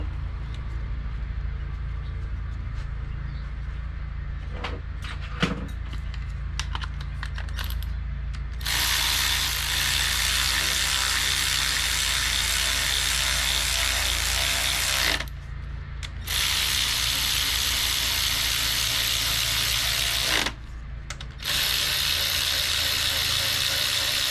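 A ratchet turns against the spark plugs and coil boots of a 2016–2019 Chevy Cruze 1.4L turbo engine, making rapid, close clicking that runs nearly the whole time. The clicking pauses briefly a couple of times before starting again, and no one speaks.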